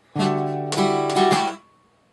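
Guitar chord strummed with downstrokes, open third string ringing, played as a couple of close, bright strums that ring briefly and then stop.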